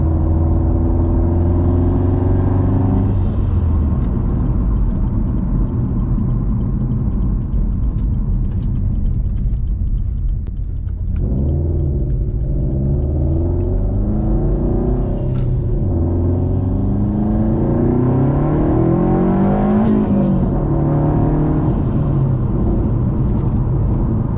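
A Subaru in sport mode accelerates, its engine a loud, close in-cabin drone that climbs in pitch through several rising sweeps, briefly dropping near the middle before pulling up again, with no speech.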